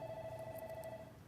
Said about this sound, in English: I've got a phone call on my computer.